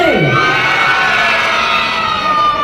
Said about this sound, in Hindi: जोरदार ताली बजाइए और शोर मचाइए everyone